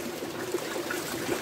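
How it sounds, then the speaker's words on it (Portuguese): Rainwater pours from a spout into a water tank in a backyard during rain, a steady continuous trickle and splash close by with no other sounds over it. "essa bica derramando água aqui em cima da caixa"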